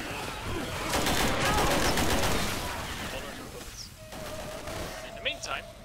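Rapid gunfire from survivors fighting zombies in Left 4 Dead 2's Dark Carnival campaign: dense, loud overlapping bursts for about three seconds, then sparser scattered shots, with voices mixed in.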